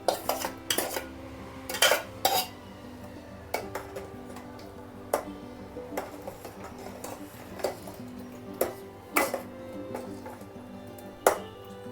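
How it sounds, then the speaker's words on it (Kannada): Salt and ground masala go into a pot of home-style togarikalu saaru, a village curry made from fresh pigeon peas, with scattered metallic clinks and taps of a spoon against the pot and a faint stirring scrape between them. "ರುಚಿಗೆ ತಕ್ಕಷ್ಟು ಉಪ್ಪನ್ನು ಹಾಕಿ ಆಮೇಲೆ ರುಬ್ಬಿದ ಮಸಾಲೆ ಎಲ್ಲನೂ ಕೂಡ ಹಾಕ್ತಾಯಿದ್ದೀವಿ"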